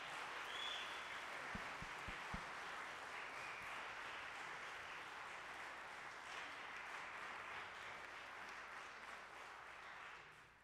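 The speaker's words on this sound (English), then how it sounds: "If we can give a warm round of applause to the students and to everybody that I mentioned." A concert audience applauds after a college big band jazz performance, a steady wash of clapping that fills the clip from start to end at moderate distance, with no talk over it.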